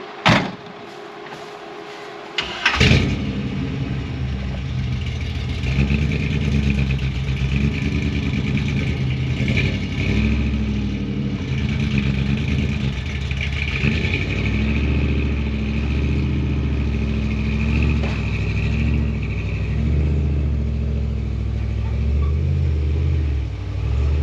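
A car slowly towing a 1955 Chevy Nomad, opening with a door thump and clunk before a steady low engine rumble and road noise settle in and hold, close and fairly loud, with no talking over it.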